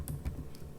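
Quick burst of a few keystrokes on a computer keyboard while entering code, soft and close with no voices.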